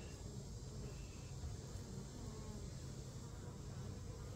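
A low, continuous buzz of many honey bees from a swarm hums steadily and fairly faintly, with no voices.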